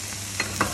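Butter with onions and leeks sizzling in a pan with olive oil, a steady broadband frying hiss with two brief stirring scrapes, close and alone.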